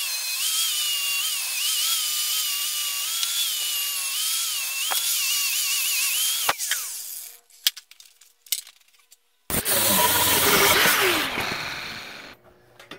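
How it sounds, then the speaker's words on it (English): A power tool stripping paint from trailer metal ahead of welding: a sustained high whining grind for several seconds, then scattered scrapes and clicks, then another loud rough burst of grinding up close. "I gotta take the paint off of this so I can weld that."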